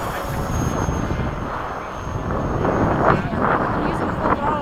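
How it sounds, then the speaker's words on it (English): An E-flite 70mm Viper RC jet flies overhead with a steady whooshing ducted-fan roar that swells and fades slightly as it passes, with wind buffeting the microphone. "You can fly full throttle for at least 3 minutes on that plane."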